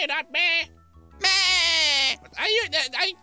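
A person mimics a sheep's bleat in a Minecraft session, giving several nasal, quavering "meh" calls, one drawn out and wavering, all close and loud.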